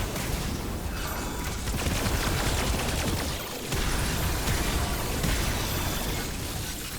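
A weapon skill in the video game Remnant 2 sets off explosions as a dense, continuous barrage of crackling blasts and rattling bursts, loud and close, easing briefly midway before the onslaught resumes.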